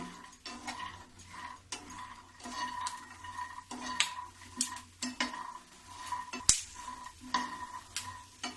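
Peanuts roasting in ghee over a low flame are stirred around a pan, giving steady light scraping and clinking of a spoon against metal, close and fairly quiet with irregular taps and no talking.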